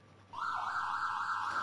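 A Pac-Man arcade game sounds its siren, a steady, faint electronic wail that switches on abruptly and holds on one pitch for over a second.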